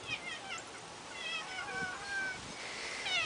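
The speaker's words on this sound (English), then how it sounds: "Roxanne, my cat." A cat meows several times in thin, high cries, close and fairly clear over a faint background hiss.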